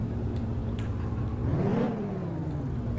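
A car engine in the Taxi Simulator video game hums steadily, then swells in a short rev before settling back, heard alone without voices.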